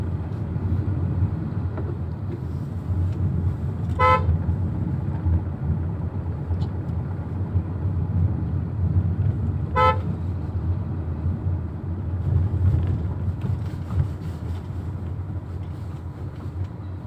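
Two short car horn honks sound about six seconds apart over the low rumble of idling engines in a traffic jam at Modasar crossroads, Bodeli.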